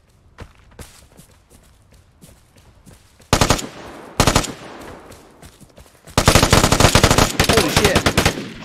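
Automatic gunfire from the online shooter Vigor, arriving in sharp dense bursts: a short burst near the middle, then a longer sustained volley toward the end, with scattered footsteps and faint clicks in the quieter stretches between.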